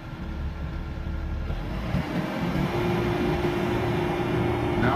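Stump grinding machine engine idling before the operator raises the throttle, a steady low mechanical drone that holds evenly throughout at moderate level, with no speech.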